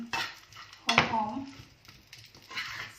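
A metal utensil scrapes and clanks against a pan as pork belly is stir-fried, with brief sizzling and a few quiet voices in between.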